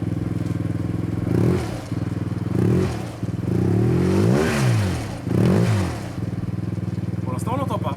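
A Yamaha TMAX Turbo scooter engine runs close by at a steady idle, rising in several quick revs before settling back each time, while voices talk over it.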